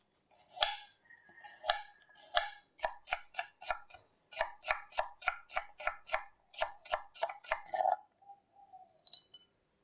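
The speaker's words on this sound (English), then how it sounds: "And now I'm going to slice the carrots." A knife slices carrots on a cutting board in a quiet kitchen, giving a run of about twenty crisp, evenly paced chops, some in quick bursts, with a short pause near the end.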